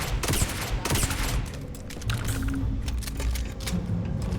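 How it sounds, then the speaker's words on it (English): Rapid bursts of gunfire in the video game Starfield, clustered volleys early then scattered shots with mechanical clicks, loud and close with game audio layered underneath. "Let me shoot you in the face."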